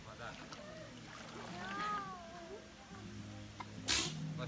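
A single sharp sneeze bursts out near the end, following a stretch of faint voices and a low droning hum.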